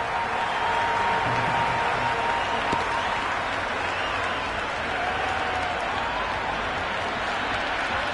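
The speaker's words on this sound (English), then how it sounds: "Will you listen to that crowd? They're loving this." A large cricket stadium crowd roars and applauds continuously after a big hit into the stands, a dense wall of cheering and clapping that holds steady throughout.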